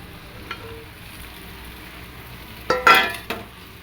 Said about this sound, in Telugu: బెండకాయలు కొద్దిగా నూనెలో మగ్గాలి